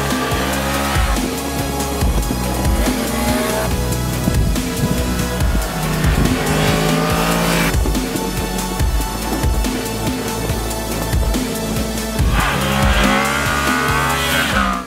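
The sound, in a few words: Yamaha MT-10 motorcycle riding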